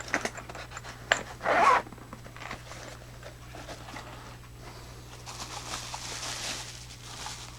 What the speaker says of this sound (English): It does have a little zipper here on it.